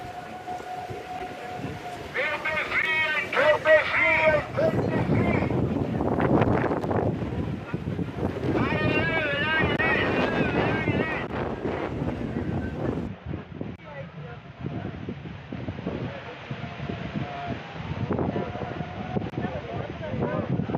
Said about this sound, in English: Quite windy, so it is.